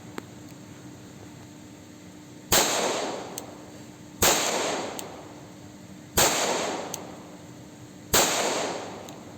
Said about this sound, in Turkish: Önce Efes 92 ile atışa başlıyoruz